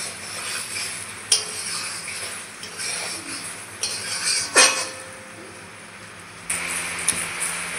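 Papaya pieces are stirred in thickening cardamom sugar syrup in a pot, with repeated metal spoon scrapes and clinks against the pot over a low bubbling background.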